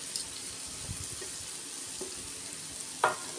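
Masala spices roasting in oil in a pan for a Punjabi green pea kadhi, a faint, steady frying hiss with a few soft stirring taps and a brief scrape near the end, no talk.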